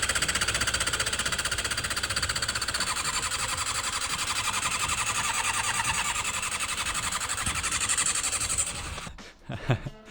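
A cheap, neglected Honda CBR600 motorcycle engine runs loud and close with a fast, rattling, pulsing beat, holding steady before sputtering out near the end.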